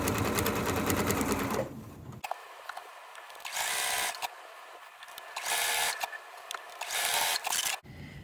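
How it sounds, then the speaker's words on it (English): Sewing machine stitching a fabric heart coaster along the seam line, running in several loud, rapid whirring bursts separated by short pauses. "let's go ahead and sew on the line"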